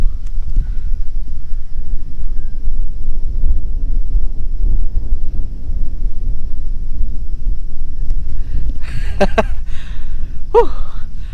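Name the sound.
strong wind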